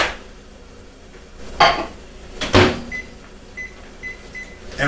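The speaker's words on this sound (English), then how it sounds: "I'm going to put this in the microwave for 90 seconds." Kitchen microwave oven started to heat food for 90 seconds, with a few sharp clunks of the door and dishes followed by faint beeps, set against a low steady room hum.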